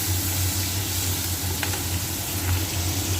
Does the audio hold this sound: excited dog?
no